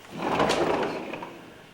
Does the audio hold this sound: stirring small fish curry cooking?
no